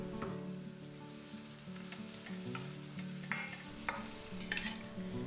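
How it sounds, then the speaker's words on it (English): Two big onions sizzle in hot olive oil with a steady crackle, and a utensil occasionally scrapes and stirs the pan, heard up close and fairly quiet. "I'm going to saute two big onions in olive oil."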